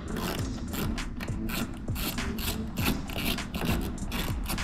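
Ratcheting tool turning 5 millimeter hex screws out of the top of an Aprilia RSV4 motorcycle, rapid close clicking ratchet pawl sounds running steadily throughout.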